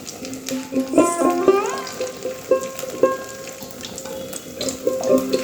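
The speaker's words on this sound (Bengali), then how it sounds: "এই তেলেই আবার আমি বাকি ছানাগুলো ভেজে নেব।" Pieces of chhana, a fresh cottage cheese, fry in hot oil with a steady crackling sizzle, loud and close, with occasional soft stirring clinks.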